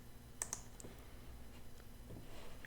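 A couple of quick, faint computer mouse clicks near the start, then quiet room tone with soft scattered ticks.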